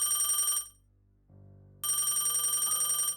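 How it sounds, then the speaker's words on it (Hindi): A telephone rings in repeated bright electronic bursts, stops for about a second amid a low hum, then resumes ringing loudly, with no talking. "एक दिन उसके पापा का फ़ोन आता है।"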